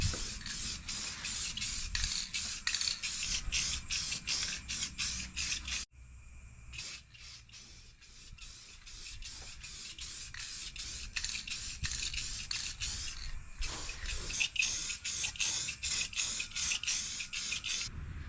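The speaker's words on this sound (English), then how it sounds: "So we're going to really dust this. Alright, it's on with the clear coat now." Clear coat is sprayed onto the rusted rocker panel of a 1999–2016 Ford Super Duty truck, heard as rapid rhythmic bursts of hissing spray-gun passes with a short pause midway, close and without talk.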